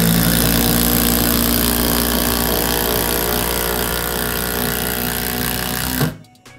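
Milwaukee M12 FID cordless impact driver sinking a 10 cm screw, a loud, continuous hammering buzz that holds steady for about six seconds, then stops abruptly, leaving a short quiet tail.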